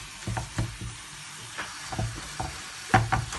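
Chicken noodles stir-fried in a pan with thick soy sauce, a soft steady sizzle broken by repeated scraping and tossing strokes of a utensil against the pan, fairly close.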